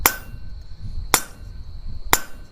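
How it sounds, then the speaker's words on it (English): Three sharp, ringing hammer blows spaced about a second apart as a steel acanthus leaf is forged, each strike bright and metallic with a short clinking decay, close and clear over quiet room noise. "And just kind of working our hammer blows to the outside edge"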